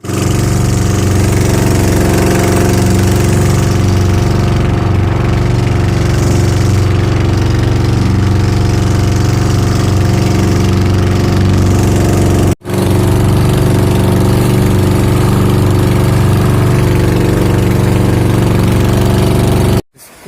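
A motor boat engine runs steadily during an island crossing, a loud continuous drone with a low throbbing hum that holds for the whole stretch, with no talk over it.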